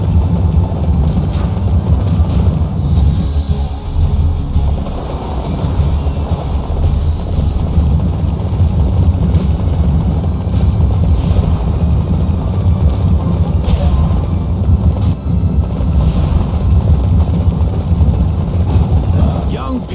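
Steady galloping hoofbeats from a horse in the video game Dynasty Warriors 9, continuous and close, mixed with a busy background rumble.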